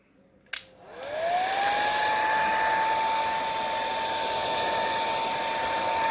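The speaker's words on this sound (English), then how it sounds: "now I'm going to use the trusty heat gun to warm it up" A heat gun warming an aircraft tail tip on a Sonex B kit plane clicks on, then its fan ramps up into a steady, close blowing whine that holds alone with no talking.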